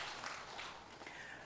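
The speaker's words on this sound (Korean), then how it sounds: "박수로 하나님께 영광 돌립니다." A church congregation applauds together during a worship service, a faint, steady, even patter of clapping hands that holds throughout with no one speaking.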